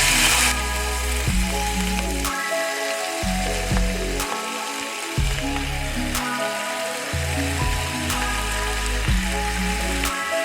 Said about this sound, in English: So here I have my cast iron skillet heating up, and I'm just going to add about 1/2 tablespoon of oil in my pan. And I'm just going to go ahead and add my steak in.